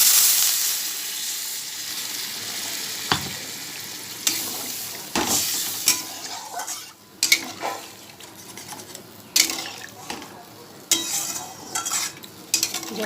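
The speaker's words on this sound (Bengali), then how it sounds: "এবার ঝোল দিয়ে দেবো।" Curry liquid poured onto spiced potatoes frying in a pan for a fish, pointed gourd and okra curry brings a loud burst of sizzling and hissing steam, followed by intermittent stirring scrapes and clinks as the hiss settles.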